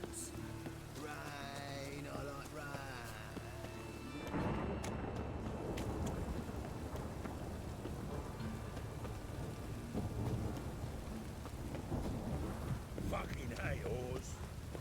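Steady rain and rumbling thunder in The Witcher 3, a dense continuous wash of falling rain that swells after a few seconds, with deep thunder rolling underneath and a voice briefly talking over the start.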